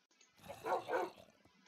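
A dog barks in the video game Minecraft, a couple of soft, short barks close together, fairly faint and alone.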